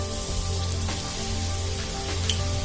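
Homemade French fries sizzle in hot oil during their second fry, a steady close crackle with a faint background hum.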